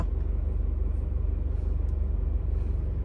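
An Isuzu D-Max pickup pulling away with its electric throttle controller set to off mode: a steady, low engine rumble heard from close by, holding at an even level with no talking.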